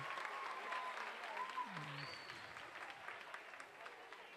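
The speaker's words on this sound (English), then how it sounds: "you guys give yourself a round of applause for that" Audience applause at a youth leadership event, steady dense clapping from a crowd, fairly faint and distant, with a brief voice-like tone partway through.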